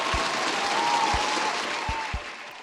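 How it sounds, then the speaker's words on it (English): Simulated thunderous applause, a dense wash of many hands clapping, loud and steady from start to finish with a few low thumps underneath, no voices over it. "how do you feel about some thunderous applause?"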